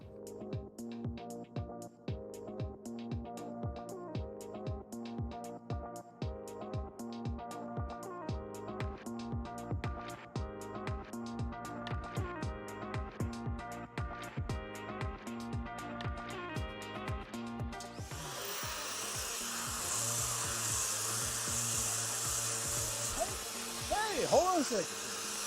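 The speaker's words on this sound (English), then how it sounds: "I was just getting some sanding done with the vacuum on. Quite loud." A sander runs with a shop vacuum attached, producing a loud, steady, close-up whirring roar. It follows a stretch of rhythmic background music and continues for several seconds.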